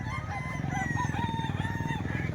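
Roosters at a chicken market in Calumpit crow in long, drawn-out calls over a low, steady rumble of background noise, with no speech.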